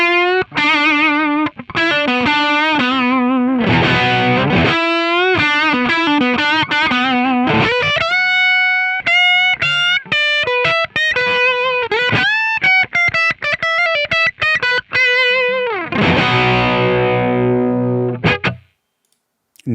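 Heavily distorted electric guitar through a real amp rig plays a solo of sustained notes, fast runs and chugging bursts, loud and close with no talk, ending in a brief silence.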